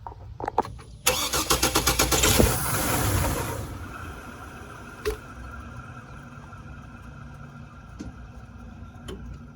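A 2007 Trailblazer 4.2 engine bumped over after an alternator belt install, with a few seconds of rapid rhythmic cranking, a brief loud catch and roar, then a quick shutdown into quiet with faint clicks.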